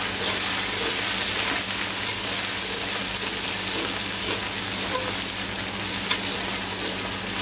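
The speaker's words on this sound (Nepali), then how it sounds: "खोर्सानी हालिसकेपछि अदरक लसुन हाल्ने, चप गरेर राखेको, त्यसलाई एकछिन चलाउने।" Chopped chili, ginger and garlic sizzle in hot oil in a pan while being stirred for a chickpea curry, a loud, steady frying hiss with faint scraping under it and no pause.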